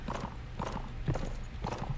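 Horse hooves clip-clop in a steady rhythm in Mount & Blade as mounted veteran troops move together, a repeating pattern of muffled strikes over a low game background.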